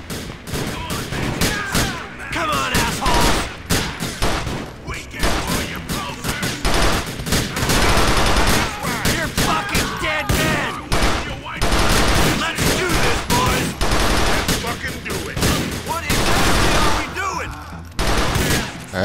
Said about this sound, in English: Oh, that sounds like a nice gun.